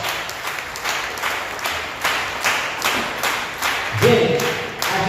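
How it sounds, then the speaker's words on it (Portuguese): A church congregation claps together in a steady rhythmic beat during a worship service, with thuds and a short musical tone near the end. "Vamos dar uma salva de palmas para Jesus."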